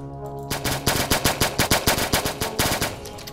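Rapid automatic gunfire in the Minecraft mod The Mining Dead, a loud close burst of sharp, evenly spaced shots that runs for about three seconds after a brief quiet start, with no talking.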